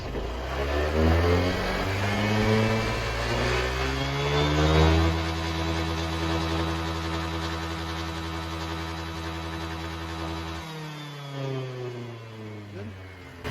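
A motorcycle engine, with Nanomoly additive mixed into its engine and gear oil, revs hard and holds at high RPM with a rising whine, then drops sharply back toward a lower hum.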